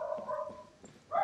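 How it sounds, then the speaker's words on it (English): A dog in Genshin Impact whimpers and gives soft, tonal barks in the game, faint and close, with a brief lull before a louder yelp at the end. "The dogs keep barking."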